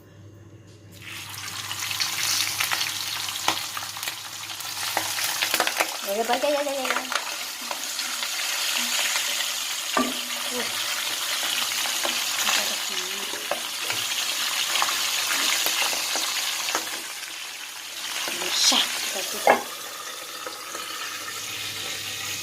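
Steady sizzle of stingray frying in hot oil, loud and continuous for the whole stretch, with a few brief spoken words and a bit of sung humming over the crackle.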